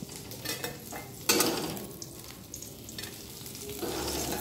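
Sliced bitter gourd fries in a pan with turmeric, a steady sizzle broken by a sharp scrape of a utensil and stirring clinks, with a louder burst of hissing near the end and no speech.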